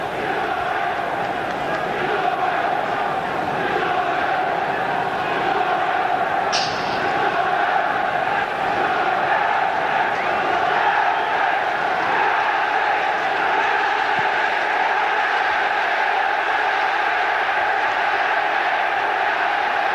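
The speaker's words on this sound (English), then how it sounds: "Great chant around the ground of United, United now" Football crowd at a Manchester United home match against Tottenham Hotspur in 1993–94, a loud sustained chant of 'United' rolling around the stadium, distant and massed, steady for the whole stretch.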